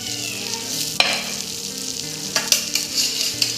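Steady oily sizzling of fish pieces coated in spice masala frying on a hot griddle, with occasional louder crackles and spatters rising above the continuous hiss.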